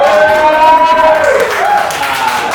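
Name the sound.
audience applause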